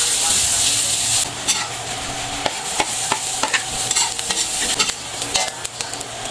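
Ginger cooking in coconut milk for a crab dish, with sliced onion and garlic already in the pan, gives a loud bright sizzle that drops after the first second, followed by close, irregular stirring scrapes and clinks.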